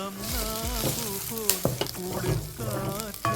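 Drumstick leaves tossed into a pan of fried garlic, shallots and chillies, crackling and sizzling up close while a spoon knocks and scrapes against the metal in uneven bursts.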